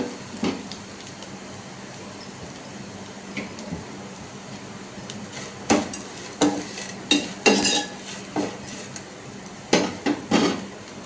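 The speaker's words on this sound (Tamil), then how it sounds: "லைட்டாக ஒரு கிண்டு மட்டும் கிண்டிக்கலாம்." A spatula stirs grated coconut in a pan for coconut vermicelli, making sparse metallic clinks and scrapes that grow more frequent in the second half, with no talking.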